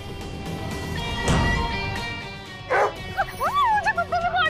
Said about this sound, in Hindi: प्लीज प्लीज प्लीज कुत्ते को बाहर हटाइए